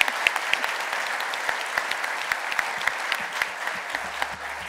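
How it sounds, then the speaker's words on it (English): A conference audience gives a steady round of applause for two honored guests, dense and continuous clapping filling the room for several seconds before thinning slightly at the end. "I want to give Heidi and Randy a big round of applause"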